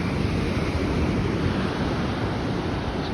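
Sea waves on the beach at Khalij al-Abyad in Marsa Matruh make a dense, continuous roar of surf, loud and close, mixed with wind noise and no distinct breaks.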